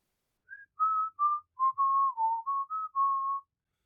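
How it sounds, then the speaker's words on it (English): A man whistles thoughtfully, alone and close, producing a short series of eight or so clear, steady notes in a loose, wandering tune. "He whistled thoughtfully."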